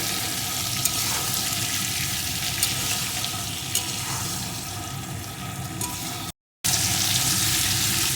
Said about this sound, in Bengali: পরিমাণ মতো হলুদ গুঁড়ো স্বাদ মতো লবণ এখন আরও কিছুক্ষণ সব কিছুকে কষিয়ে নেব